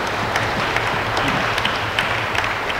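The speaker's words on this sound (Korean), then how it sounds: "우리 큰 박수로 환영하겠습니다." A church congregation applauds to welcome middle and high school students during a worship festival service, a steady, dense wash of many hands clapping together, sustained and fairly loud throughout.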